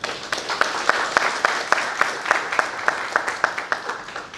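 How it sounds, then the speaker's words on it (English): Audience applause for speaker Mr. Samir at an AI conclave: loud, steady hand clapping that falls into an even rhythm of sharp claps, lasting the whole stretch without fading. "Please give a huge round of applause for"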